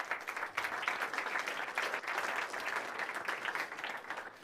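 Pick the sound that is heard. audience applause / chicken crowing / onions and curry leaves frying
audience applause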